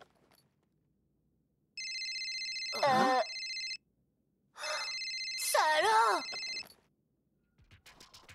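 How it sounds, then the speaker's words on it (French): A mobile phone rings in a cartoon with a bright electronic ringtone. It plays in two separate bursts, and a voice speaks over the ringing. "C'est le téléphone de Nathan."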